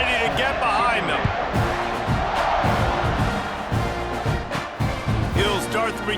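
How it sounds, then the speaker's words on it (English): Stadium crowd in the EA College Football 26 video game at UTSA at Texas A&M, roaring steadily at a kickoff as a broad, dense wash of cheering with thuds throughout and a commentator's voice over it. "this crowd now ready to get behind them"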